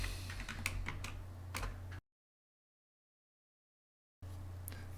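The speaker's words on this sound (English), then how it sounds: "let's just type in a couple of simple commands" Computer keys clatter at close range as a couple of short commands are typed, with a run of quick taps before a gap of dead silence and then more faint typing.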